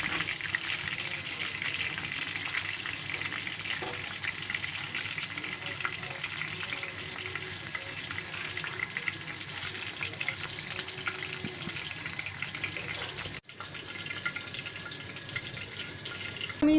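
Food fries slowly on very low heat in a pan, giving a steady, soft sizzle that runs evenly throughout, with a brief dip near the end.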